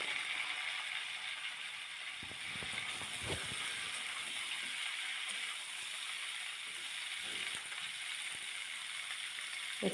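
Small potatoes stir-fried in a pan with salt and turmeric give a steady, bright sizzle throughout, broken by a few scattered scraping knocks of stirring.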